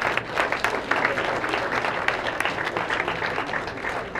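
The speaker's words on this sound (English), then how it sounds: "one more big round of applause, thank you both so much" Audience applause fills a banquet room at an awards dinner, a steady dense clapping that holds at even strength throughout with no voices over it.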